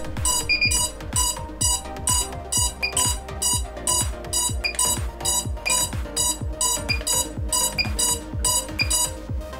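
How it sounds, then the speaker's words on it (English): FPV drone equipment (DJI Fly and Goggles setup) emits a rapid train of repeated electronic beeps, loud and close, pulsing steadily for about ten seconds with no talking over it. "I forget which key is to stop the beep"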